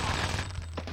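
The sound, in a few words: gunshot headshot in video game 007 The World Is Not Enough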